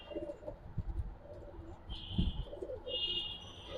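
Soft, low cooing of a Giribaz pigeon in short repeated phrases, fairly close but faint, with a few higher chirps from other birds in the background.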